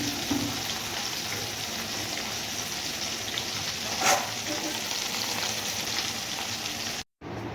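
Fish, a snakehead, frying in hot oil for an Odia fish curry, giving a continuous even sizzle at moderate level with one brief louder burst of spattering and a short cutout near the end.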